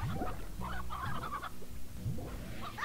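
Hen-hen chickens in the video game Slime Rancher clucking in quick, close, repeated bursts, several overlapping calls over a constant low hum.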